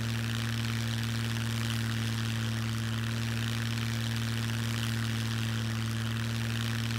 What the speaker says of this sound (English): They even have a runway where you can take more plane tours, just like this one.